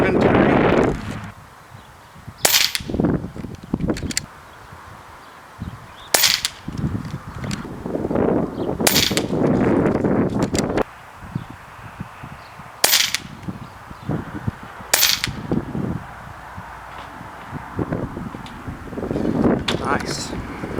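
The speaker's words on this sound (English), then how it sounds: "let me show you now me shooting the groups with the copper and the lead pellet" Air Venturi Avenger air rifle firing Crosman copper and lead dome pellets outdoors, with sharp, loud single shots spaced a few seconds apart amid wind noise and rustling.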